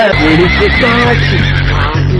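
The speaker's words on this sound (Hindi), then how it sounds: "ये है मेरा घोड़ा नंबर 1।" A horse gives a loud, close whinny, and its wavering neigh rises and falls for about two seconds over other background sound.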